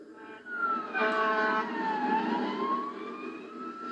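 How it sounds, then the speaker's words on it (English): Fire truck sirens wail in Leitchfield, Kentucky, answering a fire, rising and falling tones that swell in close and hold loud for a few seconds with a low engine rumble underneath, with no voices. "Sirens sounded again in Leitchfield tonight."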